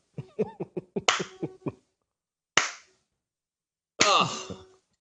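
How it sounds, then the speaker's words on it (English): Quick sharp claps in a rapid burst, then one lone clap, then another heavy clap-like burst after a pause. The sounds are close, dry and loud, with near silence between them. "Go ahead and give him the slow golf clap or a fast golf clap"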